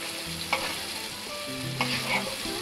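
Onions frying in a pan for aloo matar sabzi, cooked until golden brown: a steady close sizzle with occasional stirring scrapes, no talking.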